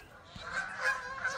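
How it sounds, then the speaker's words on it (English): Geese honking loudly outdoors near a house, a short burst of several overlapping harsh calls at moderate distance. "Them geese are going mad."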